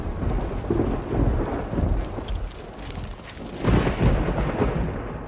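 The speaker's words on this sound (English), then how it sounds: "there was a most tremendous storm of lightning, thunder, rain and hail" A thunderstorm with steady, loud rain and deep, rolling thunder that swells twice, the second rumble near the end, with no voices over it.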